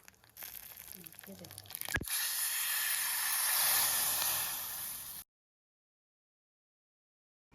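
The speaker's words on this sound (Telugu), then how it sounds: "ఇందులో మనము కరివేపాకును కూడా యాడ్ చేసుకోవాలి. దాంతోపాటు ఎండుమిర్చిలను కూడా వేసుకోవాలి." Fenugreek, mustard seeds, curry leaves and dried chillies hit hot oil, setting off a loud burst of hissing sizzle that swells for a few seconds and then cuts off, after a short stretch of quieter clatter at the start.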